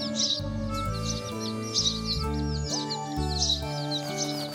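Sparrow chicks in a children's cartoon chirp in quick high bursts, repeated every second or so, over sustained musical tones.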